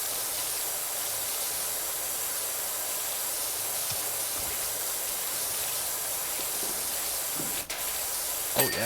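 A steady hissing spray from a pressure washer in the game PowerWash Simulator 2, continuous and even in level for several seconds, with a small knock near the end.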